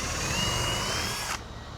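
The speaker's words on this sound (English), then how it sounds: "I'm just going to drill a hole real quick." A power drill bores a hole through 3/4 inch PVC pipe, a loud, steady whirring grind that cuts off abruptly near the end, leaving a quieter hum.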